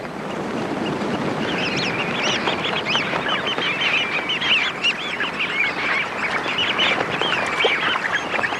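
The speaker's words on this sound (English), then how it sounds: "The birds are forced to abandon the mudflats and head for higher ground." Large flock of waterbirds such as ducks or geese lifting off tidal mudflats and heading for higher ground as the tide comes in, with dense, continuous overlapping calls and wingbeats filling the air at a steady, fairly loud level.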